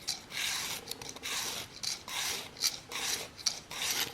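A VPA Omega broadhead is sharpened to chase the burr off its bevel side. Quick rasping strokes come one after another, about eight in four seconds, each one a crisp, close scrape.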